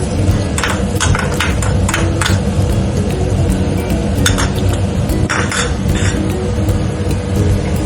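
A spoon scraping and clinking against a pan while ginger garlic paste is stirred and fried for Telangana-style boti curry, steady sizzle underneath with repeated metallic taps in an irregular stirring rhythm.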